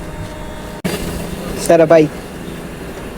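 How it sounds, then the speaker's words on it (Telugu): A train pulls out of a station with a steady rumble and hiss, a brief louder burst in the middle, while people talk nearby. "చలో ట్రైన్ కూడా వెళ్ళిపోతుంది."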